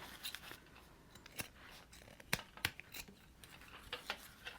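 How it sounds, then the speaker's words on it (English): Utility scissors snip off excess zipper while sewing a hip bag, giving a quiet run of sharp, irregular clicks and cuts close by, with no talking. "I'm going to trim the zipper excess off with the utility scissors."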